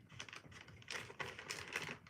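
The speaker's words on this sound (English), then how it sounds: "I hope the plastic bag noises aren't annoying you." Plastic bag crinkling and rustling while being handled and cut with scissors, a run of close, irregular crackly clicks and snips at steady moderate loudness.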